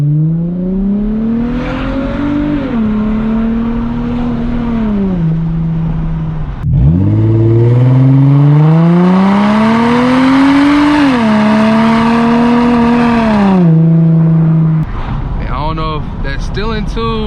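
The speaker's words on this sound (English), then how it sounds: "this sound way better than the G37 muffler delete" An Infiniti G35 with a muffler delete is driven, its exhaust droning loud and close, rising and falling in pitch through acceleration and gear changes, with someone talking over the engine.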